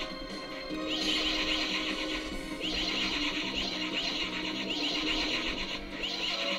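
A horse whinnies repeatedly in The Legend of Dragoon over a steady bed of background music, the neighs loud and close with brief pauses between them.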